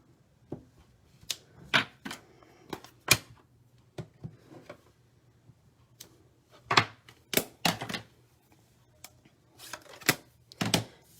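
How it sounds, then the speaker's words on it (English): Rubber stamp pressed onto an envelope during card making, a series of sharp, close taps and thuds scattered irregularly, some in quick clusters, with quiet gaps between. "I want to stamp the envelope to match, so let me do that really quick"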